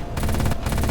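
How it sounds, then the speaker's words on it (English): Rapid burst of gunfire from a Juggernaut in the video game Sol Centauri: dense, loud, fast-repeating shots in quick succession over about a second, with a brief dip partway through. "That, I believe, is a shot from a Juggernaut."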